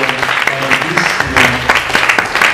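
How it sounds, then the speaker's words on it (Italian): Steady applause from an audience fills the clip, dense clapping sustained at an even level throughout. "Un applauso intanto"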